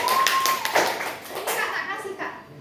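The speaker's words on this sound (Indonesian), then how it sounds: "Tepuk tangan buat Kak Devi." Children in a classroom clap along with a teacher, a short burst of near, fairly loud claps mixed with kids' voices and a whistle-like tone early on.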